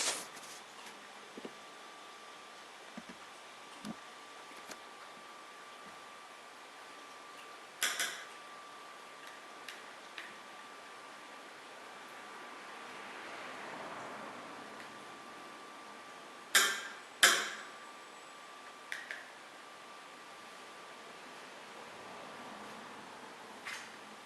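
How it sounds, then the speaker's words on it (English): Screws being undone on a Samsung Galaxy Beam projector, with sparse small ticks and clicks of a screwdriver and metal parts spread over a quiet background, a few sharper clicks clustered near the end. "we unscrew the 6 screws which are here"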